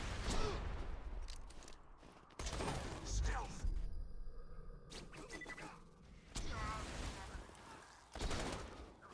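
Bursts of gunfire from the first-person shooter Borderlands 2, with repeated sharp shots and rapid volleys spread through the clip, mixed with someone talking over the game action.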